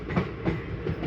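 A passing train, the Mangalore Tambaram Express crossing a stopped train at a Kerala station, rumbling close by with a rhythmic clickety-clack of wheels over rail joints.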